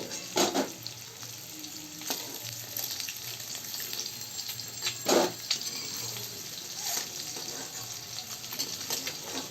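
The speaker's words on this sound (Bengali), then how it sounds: "আলুটা আর একটু ভেজে নিচ্ছি" Potato frying in oil in a kadai, a steady close sizzle broken by a few louder bursts of scraping and stirring.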